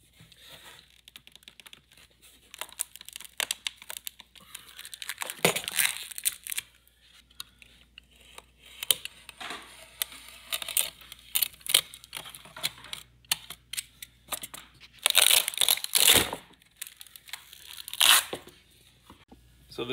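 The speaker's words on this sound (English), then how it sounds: "And here is your demolding ASMR." Cured epoxy resin sword pulled from its silicone mold, giving close crackling, peeling and tearing sounds in irregular bursts, with louder sustained ripping stretches later on and quiet gaps between them, and no talking.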